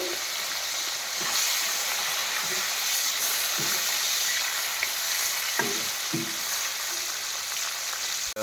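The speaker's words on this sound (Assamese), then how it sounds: "এতিয়া মাছ ভাজি আছোঁ" Fish frying in hot oil for an Assamese dupuriya mash dish keeps up a steady, close sizzle, broken by a few soft clinks and scrapes of stirring, with no talking.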